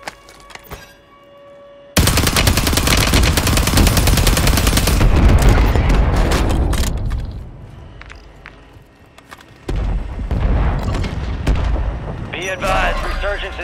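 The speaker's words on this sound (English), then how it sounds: "Friendly mortar strike on the way." Mortar barrage in Call of Duty Warzone, a loud sustained roar of heavy blasts and rumbling impacts that starts abruptly, fades, then surges again with more explosions.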